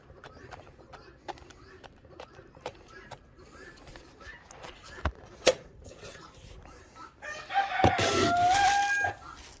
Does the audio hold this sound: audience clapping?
no